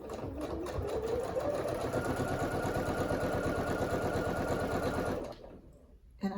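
A sewing machine runs at a steady fast pace stitching quilt pieces, its rapid rhythmic chatter continuous for about five seconds before stopping abruptly, followed by a faint click.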